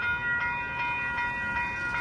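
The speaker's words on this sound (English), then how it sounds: "The train is going in reverse." A Union Pacific train reversing near Lincoln Park, Los Angeles gives a steady rail rumble with sustained high tonal squeal and faint rhythmic clicks, moderately close, with no talking.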